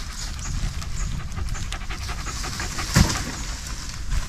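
A hunting dog pants rapidly and heavily close by, a steady rhythmic breathing that continues throughout with outdoor background noise and no talking.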